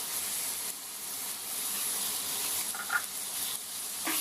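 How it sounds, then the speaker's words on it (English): Onions sauté in a pan for Punjabi dal makhani, a soft steady sizzle and hiss heard close up, fairly quiet, with a few faint clinks near the end. "Now we let these onions saute till they are golden brown in color."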